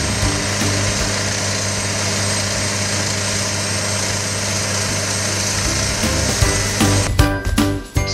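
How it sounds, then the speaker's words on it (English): A rock drill rig boring a 127mm hole 10 metres deep into rock at a cement works quarry grinds and hums in a loud, constant mechanical drone, with clattering knocks near the end. "the drill rig bores a 127mm hole into the rock to a depth of 10 metres"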